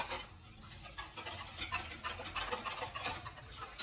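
Eggs being mixed into a banana cream pie custard, with a steady stirring and scraping in a bowl or pan and light utensil clicks throughout, close and continuous without talk.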